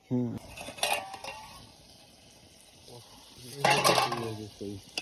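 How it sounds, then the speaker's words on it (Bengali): Goat head curry stir-fried in oil in a pan makes bursts of metal-on-pot scraping and clatter as it is stirred, with a low sizzle beneath and a voice speaking between the stirs. "ওরে বাড়ে এতগুলো তেল, সেই তেল বেরিয়েছে। দারুণ একদম। সুন্দর করে কষাচ্ছি।"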